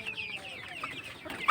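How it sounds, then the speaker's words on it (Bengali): Tiger chickens about six weeks old cluck softly and intermittently, close by, with a slightly louder note at the end. "এটি আমার টাইগার মুরগি।"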